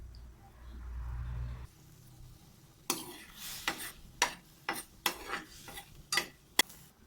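A chili paste of red chilies, garden bird's-eye chilies, shallots and garlic is worked in a bowl: after a low rumble, roughly seven sharp, close clacks and scrapes land in an uneven rhythm, with no talking.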